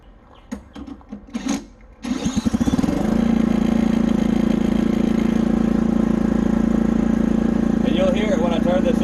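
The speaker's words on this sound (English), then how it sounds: "So I'm gonna go ahead and turn our engine on." A homemade alternator generator's small engine is cranked with a DeWalt drill, catches after a few quick clattery attempts and settles into a loud, steady buzzing run, with brief handling noises at the start.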